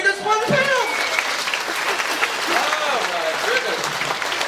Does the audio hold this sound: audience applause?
yes